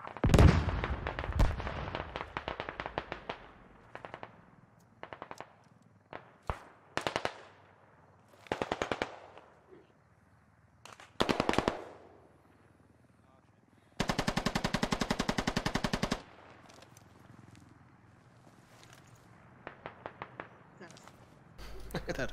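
Video game gunfire, loud sharp shots and automatic bursts coming in irregular volleys with quiet gaps between them, including one long sustained burst. Voices talk between the shots.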